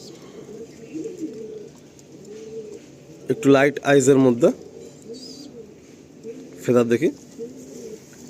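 Pigeons coo in low, soft rolling phrases beneath and between a man's close speech, in a coop of tournament-quality birds shown for sale.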